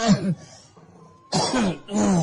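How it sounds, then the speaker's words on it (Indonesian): A person coughs in two loud, close, rough bursts separated by a short quiet pause, with no speech. "Batuk dia."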